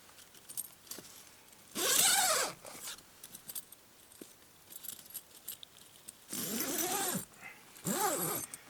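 Several long zipper pulls on the door of a Hilleberg Nammatj 3 GT tent, loud and close, separated by quiet pauses with small rustles and clicks in between.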